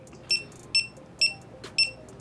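A GoPro Hero 4 Black camera gives four short electronic beeps in an even rhythm, each a clear high-pitched tone, fairly close against a quiet background.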